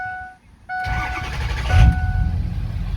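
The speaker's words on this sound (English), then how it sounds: "First we'll give it a cold start. Hear it crank up again." A 2006 Ford F250 Lariat cold-starts close by: a brief whine and pause give way to a quick crank, and the engine catches and settles into a loud, rumbling idle.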